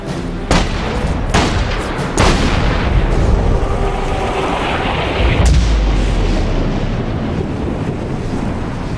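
Heavy gunfire in The Saboteur, a few sharp loud reports cutting through a constant roaring, wind-like background rumble, with a big boom-like burst partway through.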